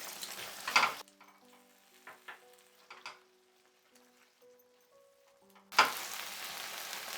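A tomato mixture cooks over a high flame in a pan, giving two loud bursts of sizzling at the start and end, with quieter faint bubbling and soft tones between them.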